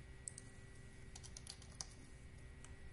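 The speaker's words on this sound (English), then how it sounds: "So I'm typing in Unity Grove" Typing on a computer keyboard, a steady run of quiet, close keystroke clicks with a few sharper taps, heard alone over a low background hiss.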